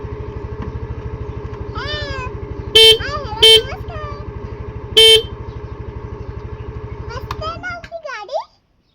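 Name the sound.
motorcycle arriving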